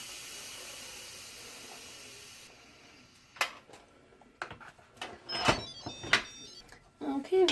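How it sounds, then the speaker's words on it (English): An Instant Pot pressure valve vents steam after natural release, a loud steady hiss lasting a couple of seconds that cuts off abruptly. Scattered clicks and knocks from handling the pot follow. "I'm just going to go ahead and move the valve to venting"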